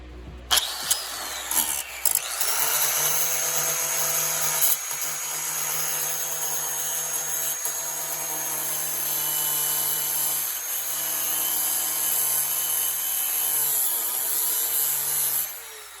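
A power tool whines steadily as it cuts out rusted, mangled condenser bolts on a Porsche 911 Carrera, a sustained high grinding tone with brief starts and dips, close and loud with no talking.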